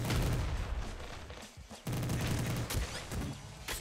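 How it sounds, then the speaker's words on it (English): Rapid, dense gunfire from a weapon in the video game Nuclear Throne, a loud continuous burst that cuts out briefly and then resumes, with sharp repeated shots and no talk. "This thing only using 5 ammo per shot is pretty absurd."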